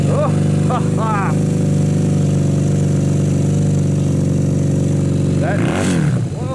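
A Honda CB250 motorcycle engine running on full choke just after starting, a loud steady idle close by with a brief rev near the end, while people talk excitedly over it.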